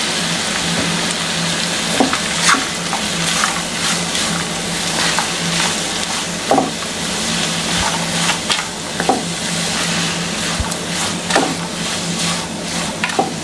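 Chopped spinach for a dal spinach curry is stirred in a hot frying pan, giving a steady sizzle with repeated scrapes and taps of the spoon.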